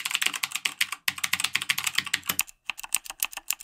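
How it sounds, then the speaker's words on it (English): Fingers type rapidly on a mechanical keyboard with clicky blue switches, producing a close, loud stream of sharp clacks in quick bursts with a brief pause near the end. "Blue is a clicky switch."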